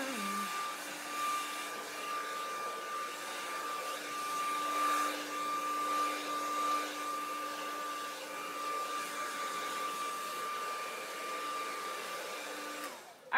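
A handheld hair dryer drying hair at the top of a client's short cut in a salon whirs as a steady, constant blowing drone with a fixed motor whine for over ten seconds, fairly quiet, with no talking.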